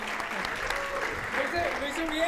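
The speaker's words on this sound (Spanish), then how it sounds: "Un aplauso a Ovidio, muchas gracias." An audience applauds for a volunteer at a church talk, a brief burst of clapping heard under overlapping speech and voices.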